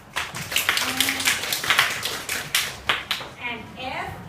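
Students clapping their hands in a classroom, a scatter of sharp claps at varied intervals over a noisy room with children's voices chattering throughout.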